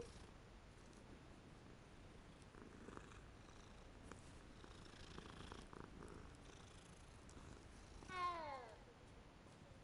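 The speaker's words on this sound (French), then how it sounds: "on va caresser le petit minou" A cat in the Hogwarts Legacy video game purring softly and steadily while being petted, then a short rising meow near the end.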